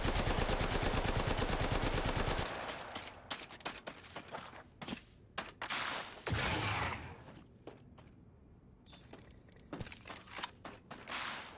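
Rapid automatic gunfire in a shooting video game, a dense sustained burst followed by shorter clustered bursts and single loud shots, close and dry, with no talking over it.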